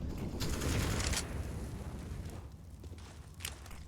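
Muffled bursts of automatic gunfire spray through smoke in a CS:GO match on the Nuke map, rapid rattling shots with heavy low rumble, fading to quieter scattered pops.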